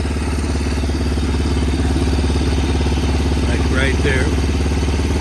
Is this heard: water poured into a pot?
no